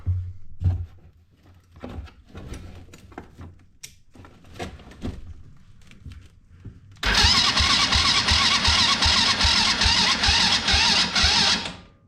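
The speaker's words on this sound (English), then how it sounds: "Now I'm going to crank the engine and see if any fuel shows up in this line." A gas engine on a homemade Power Wheels build is cranked by its starter: after a stretch of quiet handling noises, a loud rapid rhythmic cranking churns for about five seconds without catching.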